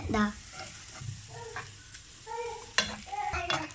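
A crushed squid mixture with coconut is stirred in a hot pan for Kozhikode-style stuffed squid, with a steady frying sizzle broken by sharp spoon scrapes and clatters against the pan, close and fairly loud.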